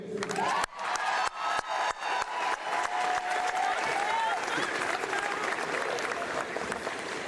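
A pep rally crowd claps and cheers loudly and without a break, with whoops rising over the steady applause and a few sharp bursts near the start.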